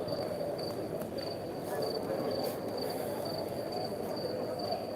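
Crickets chirp in short, evenly spaced bursts, steady and moderately loud over a broad hiss of outdoor background noise in a bare square.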